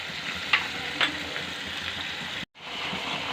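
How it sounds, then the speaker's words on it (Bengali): Paste of onion, ginger and garlic with turmeric and salt fries steadily in a pan, a continuous close sizzle broken by two sharp stirring scrapes and a brief cutout near the end. "পেঁয়াজ আদা রসুনের কাঁচা গন্ধটা যাওয়া পর্যন্ত আমি এটাকে কষাতে থাকবো বন্ধুরা।"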